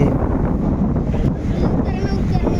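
Strong cyclone wind roars continuously in Tazumuddin, Bangladesh, buffeting the microphone with a heavy low rumble throughout.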